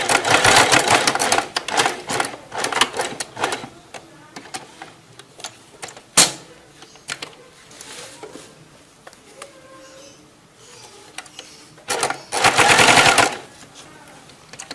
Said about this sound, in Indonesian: Udah, kita lanjut lagi jahit.